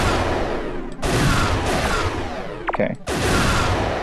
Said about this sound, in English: that's having the two guys off screen shooting rockets at you.